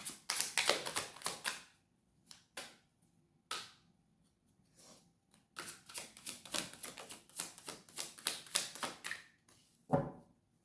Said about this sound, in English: I'm going to take them and shuffle again